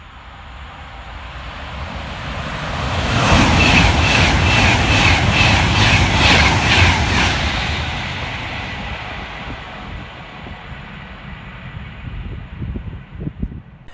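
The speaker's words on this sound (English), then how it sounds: "Next flying through the station for Avanti West Coast is 390-009, working 1 Sierra 58 from London Euston through to Glasgow Central." Avanti West Coast Class 390 Pendolino 390-009 passing at speed through Nuneaton station, a loud rising rush of wheels and airflow peaking mid-clip with rhythmic clatter over rail joints, then fading into background rumble.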